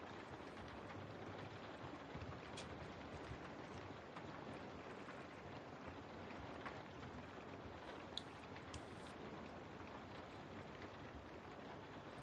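Steady rain falls throughout, a dense even patter of drops with a soft wind-like hiss, continuous and unbroken, with a few brighter drips standing out near the end.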